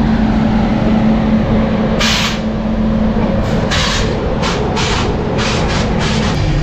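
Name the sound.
Howrah Jodhpur Superfast Express train leaving Deen Dayal Upadhyaya Junction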